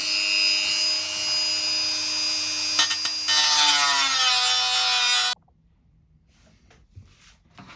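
A Dremel-type rotary tool fitted with a small cutting disc cuts into wood with a loud, high, steady whine for about five seconds, then cuts off abruptly, leaving faint handling noise.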